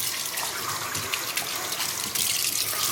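Tap water runs steadily into a kitchen sink as produce is rinsed beneath it, a close, continuous splashing hiss with a brief surge near the end.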